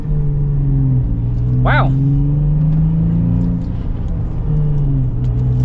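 Toyota FJ Cruiser pulling away and accelerating, a steady close engine drone with a low rumble rising slightly in pitch, plus a brief voiced exclamation partway through.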